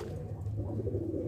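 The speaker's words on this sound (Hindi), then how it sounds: "ये देखिए कलदुमे कल्परे कबूतर" A Kaldume pigeon at a pigeon sale in Lucknow gives a low, throaty coo, close and steady over a brief stretch, with no voices.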